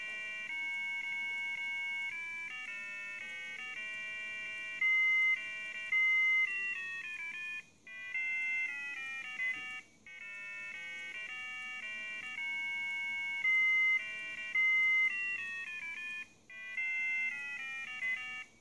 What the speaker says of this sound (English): The next example is the theme of Darth Vader from Star Wars, also known as the Imperial March.